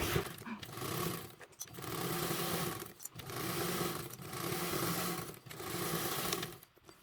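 Close, steady sewing machine stitching through an air mesh sling strap at a 3/8 seam allowance, running in four sustained bursts separated by brief stops, with no speech.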